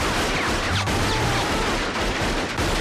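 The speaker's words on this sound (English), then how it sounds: "he's actually firing right into the camera" Guns fire wax blanks straight toward the camera in a loud, dense, continuous burst of overlapping shots at close range, with no voices.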